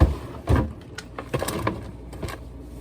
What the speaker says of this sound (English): Just gonna put them in this my little drawer of mine.